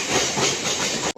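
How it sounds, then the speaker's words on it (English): A Southern Railways local train in Chennai rushes past close by with loud, steady rumbling and hissing wheel noise, then cuts off abruptly at the end. "Oh yes, local train is here."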